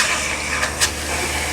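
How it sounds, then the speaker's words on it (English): The water pump on a Flagstaff Micro Lite or Shamrock travel trailer runs as a steady hissing hum, with a couple of faint clicks near the end. "we're just going to run that pump"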